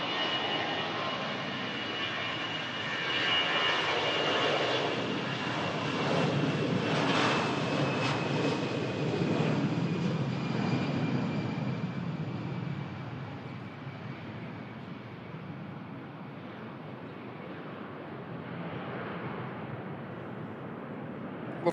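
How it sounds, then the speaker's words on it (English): Lufthansa A319 jet airliner rolling for takeoff at Manchester Airport bound for Munich, a sustained, loud engine roar heard from a distance that swells and then slowly fades as it climbs away. "Lufthansa for Munich on the roll."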